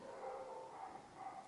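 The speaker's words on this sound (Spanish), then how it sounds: "Perros." Dogs bark and yip indoors, a few quick, moderately faint barks and whines running together with no talk.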